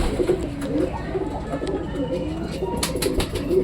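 Pigeons coo steadily nearby in a loft, soft repeated rolling calls layered over a constant background hum.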